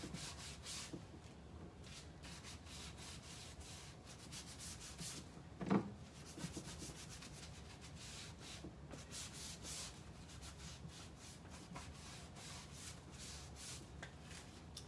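Dark wax is rubbed onto wooden furniture with a cloth in continuous brisk back-and-forth strokes, a soft dry scuffing that is close and steady, with one brief louder knock near the middle.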